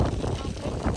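Blustery wind buffets the microphone in a steady low rumble, loud and close, with uneven gusty swells throughout.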